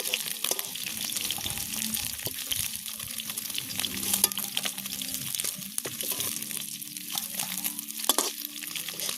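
Khalsa fish fry in hot oil in a village kitchen wok, a continuous bright sizzle with scraping stirs and clinks from a spatula, steady and close throughout.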